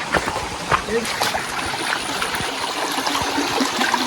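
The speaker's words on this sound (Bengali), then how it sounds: "সামনের দিক থেকে তো পানি ভালোই আসতেছে" Stream water runs near the Silbunia waterfall in the hills, a steady rushing flow with scattered splashes and trickles, close and continuous.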